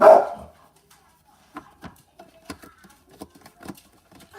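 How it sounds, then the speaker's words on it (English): A dog gives one loud bark up close, followed by a string of softer, scattered yips and whimpers in a quiet room. "Quiet. No barking."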